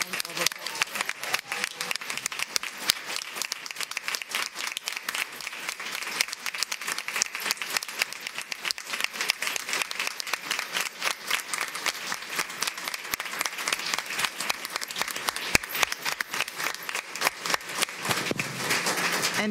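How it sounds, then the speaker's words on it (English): Sustained audience applause fills a school board of education meeting room, dense and steady clapping from many people for about twenty seconds without a break. "Let's give them all a round of applause."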